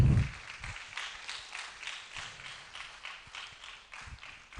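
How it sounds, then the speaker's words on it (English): An audience at an agritech challenge event claps in a steady rhythmic patter, moderately loud and a bit distant, after a brief low thump at the start. "Let's clap for him."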